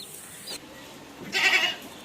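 A short bleat rises out of a steady background hiss partway through, as goats on a small rain-soaked farm call out, fairly close and moderately loud.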